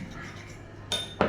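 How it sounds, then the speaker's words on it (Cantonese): A spoon clinks against a bowl while soy sauce marinade for roast pork belly is stirred, with two sharp metallic taps near the end after quiet scraping. "3茶羹豉油，攪勻"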